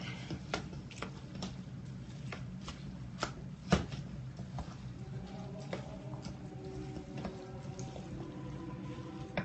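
Hot pasta water poured into a metal bowl, a steady close splashing wash with a few sharp clanks partway through.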